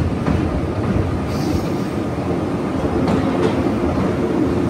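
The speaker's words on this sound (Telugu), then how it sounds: "ప్రస్తుతం మనం అండమాన్ ఎక్స్ప్రెస్ లో ఉన్నాం." Andaman Express passenger train rolling along the rails, a steady rumbling drone with faint clicks of wheels over rail joints, heard from inside the carriage.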